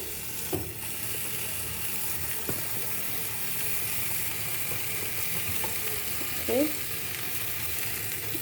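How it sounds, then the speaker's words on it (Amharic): Potatoes frying in oil in a pan, a steady hiss and crackle filling the whole stretch, with a few soft clinks and scrapes of stirring, close and even, no talking. "ከድንቹም እንደዛው ድንቹም ትንሽ ጠበስ አድርገዋለሁ"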